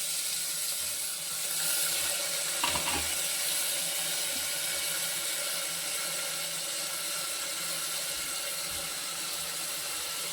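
Finely chopped onions sauté in a pan for a Tamil green mochai bean curry, giving a steady, fairly loud hiss and sizzle that runs unbroken throughout.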